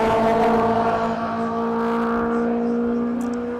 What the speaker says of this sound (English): We're hearing M3s going by a microphone somewhere around the circuit